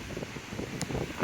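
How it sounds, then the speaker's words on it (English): Strong wind blowing across an outdoor disc golf course at a Queensland tournament, a steady rushing roar buffeting the microphone throughout this short moment, with no talk. "the wind was so strong"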